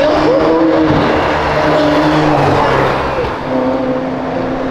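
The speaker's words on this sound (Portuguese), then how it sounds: "ele botou o escape. Nossa, ele acelerou pra caralho no seu lugar." A Honda car with an aftermarket exhaust revs hard nearby, its loud engine note rising and holding steadily throughout.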